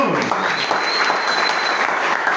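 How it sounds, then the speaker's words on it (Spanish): A church congregation applauds in steady, dense clapping that fills the room, a continuous wash of many hands from start to finish with no talk over it. "Denle un aplauso al Señor."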